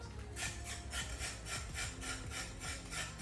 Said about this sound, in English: I scrape carrot, not peel carrot.